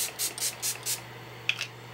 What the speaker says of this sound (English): I am going to be using my Pure Miracle Mist. This is a hydrating spray